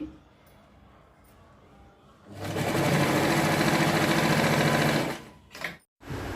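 Sewing machine running in one steady, loud burst of fast stitching on a boy's pyjama, starting after a quiet stretch and stopping abruptly near the end.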